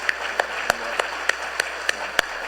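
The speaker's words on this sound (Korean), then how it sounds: "우리 한번 일어서실 때 열렬한 환영의 박수 한번 보내주시면 고맙습니다" Church congregation at a Sunday service welcoming new members with applause, sparse and thin: a handful of distinct, sharp claps spaced out over a quiet room rather than a full ovation.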